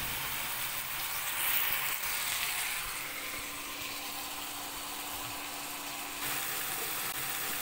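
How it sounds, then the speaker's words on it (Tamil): Ginger garlic paste being sautéed in a pan for sprouted soybean pulao gives a continuous close sizzle with a faint hum underneath, steady throughout without speech. "இப்போ நம்ம எடுத்து வச்சுருக்க இஞ்சி பூண்டு பேஸ்ட் ஆட் பண்ணிக்கலாம், ஒன்ஸ் அகெயின் சோட்டே பண்ணிக்கலாம்"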